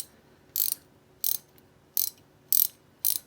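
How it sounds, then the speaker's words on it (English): Ratcheting head of a Milwaukee combination wrench clicking in five short, crisp bursts at even intervals, close and clear against a quiet background. "good quality wrench with the ratcheting head"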